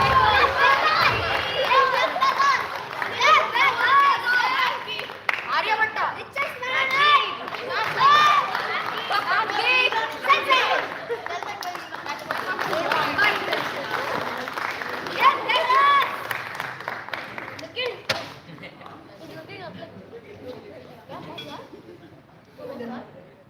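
An audience at the final-day gathering of a 2022 residential astronomy space camp applauds a participant, with clapping and lively chatter and cheering running for about eighteen seconds before dying down to scattered sounds.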